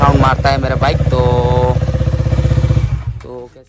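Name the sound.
motorcycle exhaust sound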